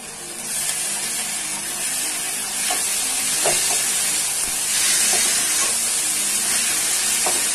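Onions with garlic-ginger paste frying in a pan for a Bihari chicken dish, a steady bright sizzle and hiss with occasional stirring scrapes and clinks, continuous and close throughout.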